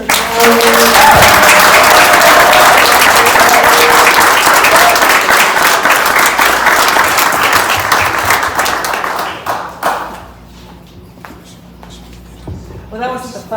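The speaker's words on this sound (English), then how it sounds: "One final round of applause" An audience at an indoor awards event gives a loud, sustained round of applause that fills the room for about ten seconds, then thins to scattered claps and shuffling.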